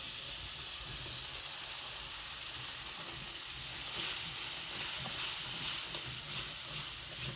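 Ground masala fries in a pan, giving a continuous soft sizzle and hiss that grows a little louder and brighter in the second half, with no talking.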